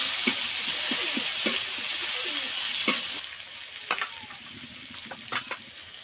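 Onions frying in oil with bay leaves and dried red chillies, a close, bright continuous sizzle with rhythmic scraping and tapping of a spatula stirring, easing slightly toward the end.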